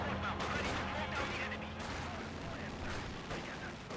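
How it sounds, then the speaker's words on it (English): Gunfire and flamethrower bursts fill a battle in the video game Company of Heroes 2 as a dense, continuous roar of shots and blasts at steady loudness, with a commentator talking over it. "Flamethrower straight forward. Get a couple quick bursts there."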